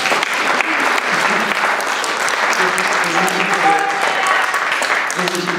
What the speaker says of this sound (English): Let's give Anna a big round of applause.